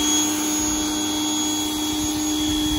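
Chemical Guys snow foam being sprayed onto a car from a foam applicator, a loud steady hissing spray with a constant mechanical whine running unbroken throughout.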